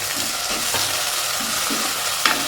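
Onions sauté in a pan for a tuna curry, giving a steady, close sizzle and frying hiss throughout, with a few soft stirring scrapes and no talking.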